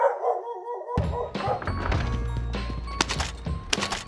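A dog barks several times in short bursts in Call of Duty: Warzone, mixed with thumps and clatter from a busy game scene.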